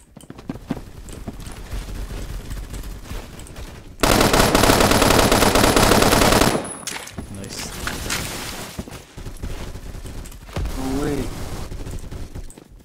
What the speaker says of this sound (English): I hear gunshots everywhere.